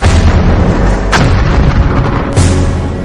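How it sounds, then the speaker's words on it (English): A British WWI artillery barrage of field guns fires continuously at dawn, a loud, dense rumble of heavy booms with sharper reports standing out, no talking. "That's our artillery, trying to soften up the Germans."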